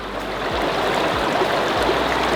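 A river stream in Zion National Park flows steadily and loudly, a continuous broadband rush of water with no voices over it.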